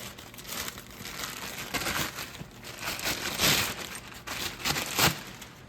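Plastic bag crinkling and rustling up close as a right front CV axle for a 2018 Ram 1500 EcoDiesel 3.0L is pulled out, with continuous crackling that swells in a few louder crunches.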